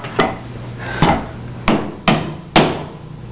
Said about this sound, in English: that's what hammers are for